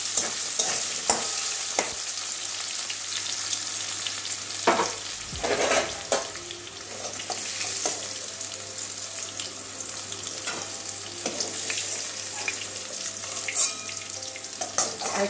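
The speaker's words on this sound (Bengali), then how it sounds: "আলুটাও হালকা ভেজে নেবো, একটু হলুদ দিয়ে দেবো, কালারটা ভালো হবে" Potato pieces with turmeric fry in hot oil in a pan, a steady bright sizzle running throughout with intermittent scraping stirs and clinks of the spatula.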